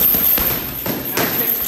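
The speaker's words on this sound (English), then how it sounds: "We're just throwing straight punches" Straight punches land on a boxing heavy bag in quick succession, three or four sharp thuds close by.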